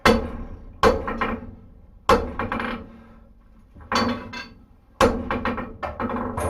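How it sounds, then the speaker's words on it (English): Blacksmith hammering a hot steel bar on an anvil to forge a taper: sharp, loud ringing hammer strikes, single blows and quick clusters spaced about a second apart, each decaying into a short ring. "Now I need a bigger hammer because I got a lot of material to move."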